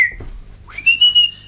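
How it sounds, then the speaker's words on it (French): Person whistling a short, clear, high-pitched tune, a brief note followed by a rising sustained whistle, close and loud with no talking. "Ah, ne siffle pas, c'est terrible"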